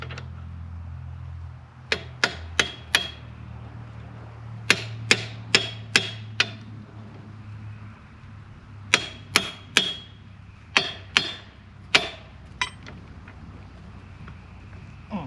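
Sharp metal hammer strikes ring out in quick clusters of three to five as a loose bushing is driven into a hay tedder during a rebuild, close and clear over a low steady hum.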